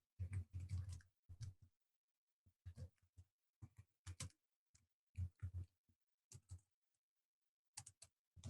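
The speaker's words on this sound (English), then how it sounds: "Got to keep in all these typing sounds in the podcast version." Typing on a computer keyboard: close, crisp bursts of key clicks in irregular clusters separated by short silences, with no talking over them.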